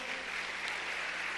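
Church congregation applauding during a Spanish-language sermon, a steady wash of many hands clapping at moderate level, continuous and fairly distant throughout the short stretch.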